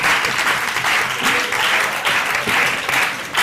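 A dense burst of applause from a group of people cheering for a school cooking project, steady and loud throughout with no pauses.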